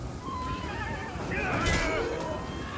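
Horses whinny and neigh during a cavalry battle in the strategy game Total War: Three Kingdoms, a couple of shrill calls rising over busy battle ambience with someone talking.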